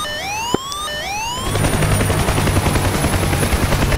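A helicopter in the DCS 2.5 combat flight simulator, flying a jungle mission. Thin rising whines open the clip, then a loud, close, steady rotor chop with rhythmic thumping takes over and runs to the end.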